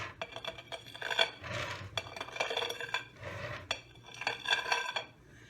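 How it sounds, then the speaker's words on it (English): A metal scraper drags across frosting on a cake set on a curved plate, giving several close, bright scraping strokes with metallic clinks against the plate between passes. "I'm going to take my scraper and I'm going to scrape all that back off"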